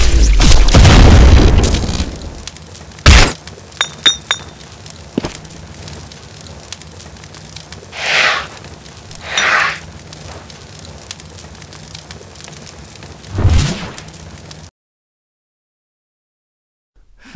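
A Chaos Blast goes off in a Sonic the Hedgehog animation with a huge booming burst up front, then a sharp crack, fiery whooshes and another deep boom, before falling to silence.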